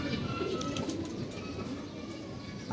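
Pigeons cooing steadily at close range, soft low calls repeating over a continuous background murmur.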